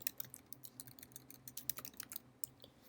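Quick, uneven keystrokes rattle on a computer keyboard, with light clicks and taps coming steadily and close by while someone enters numbers for MATLAB vector creation.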